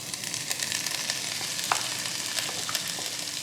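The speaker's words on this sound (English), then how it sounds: "So we're going to let these vegetables saute for a little bit" Finely chopped vegetables, including red bell pepper, carrot and potato, sauté in a pan for corn chowder, giving a steady close sizzle with scattered small pops and crackles and no talking.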